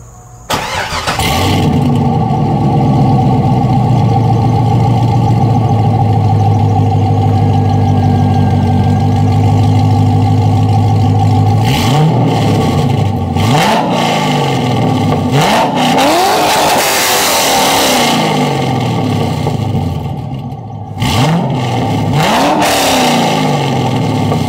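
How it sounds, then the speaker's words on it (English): A Chevrolet C5 Corvette with an aftermarket exhaust starts up and settles into a loud, steady idle, then gets several sharp throttle blips that rise and fall, heard up close with no talk. "So I'm going to fire this thing up, give y'all a couple of revs"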